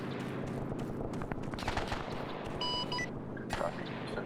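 Gun run airstrike in a WW2 video game, rapid bursts of heavy gunfire crackling loudly in quick succession with a sharp beep among them.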